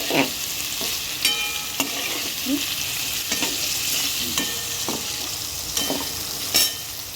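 Potatoes for aloo fry cooking in a pan on a low flame, with a continuous bright sizzle broken by irregular scraping knocks of a spatula stirring the pieces, close and steady, with no voices.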